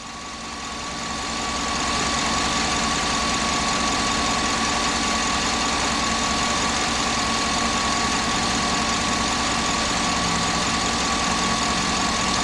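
A 2009 Chevy Tahoe with a 5.3 engine and a new alternator runs at a steady idle, a loud continuous drone with a constant high whine, rising slightly in level at the start and then holding unchanged.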